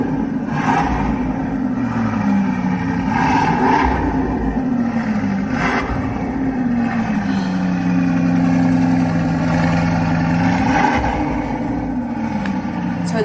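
A Bugatti engine rumbles low and deep at close range, its pitch rising and falling through several gentle revs over a steady idle, with faint talk in the background.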